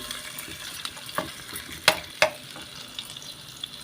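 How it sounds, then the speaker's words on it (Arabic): Crushed garlic frying in a little oil left over from frying onions, for home-style koshari: a steady soft sizzle with occasional sharper crackles and spatters, close and alone with no talking. "هنحمر الثومه"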